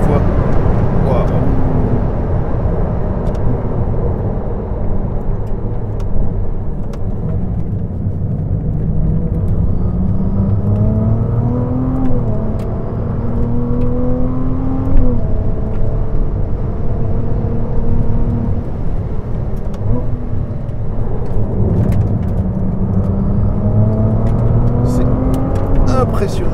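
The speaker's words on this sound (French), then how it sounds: "Ces passages de vitesse sont absolument dingues, ce petit à-coup à chaque fois" A Ferrari 296 GTB plug-in hybrid sports car engine revs up repeatedly, its pitch climbing then dropping at each gear shift with a slight jolt, loud and close, with people talking over it.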